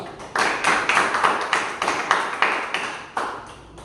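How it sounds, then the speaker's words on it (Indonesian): Applause for a student group in a classroom: a steady burst of many hands clapping at once for about four seconds, close and fairly loud, fading slightly toward the end, with no talking over it. "Kita beri aplaus dulu untuk kelompok 2"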